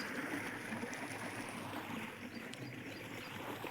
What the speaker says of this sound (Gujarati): અહીંયા મિત્રો પાણી ચાલુ ઘઉંમાં,